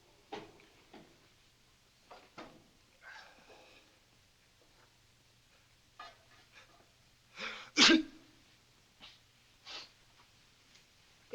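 A woman's loud, sharp sneeze bursts out once, near and clear, amid quiet rustling and a few soft breaths and sniffs in an indoor scene from a 1953 film.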